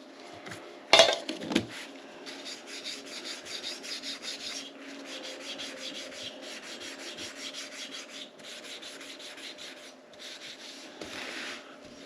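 Wet-dry sandpaper scrubs oxidation off the cylinder of a 2001 Harley-Davidson Heritage Springer, a faint, steady back-and-forth rasping with a brief louder knock near the start, close and continuous with no talk.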